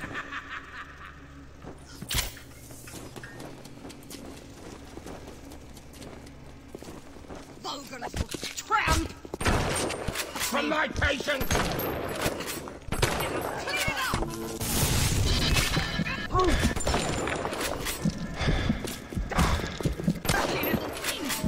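Shotgun blasts and combat in the video game BioShock: sparse thuds at first, then a heavy, busy stretch of repeated loud shots and clatter building toward the end.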